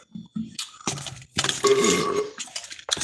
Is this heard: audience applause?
no